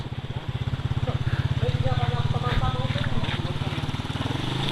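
A motorcycle engine idles close by with a fast, steady putter while people talk over it, after the motorcycle fell into a river.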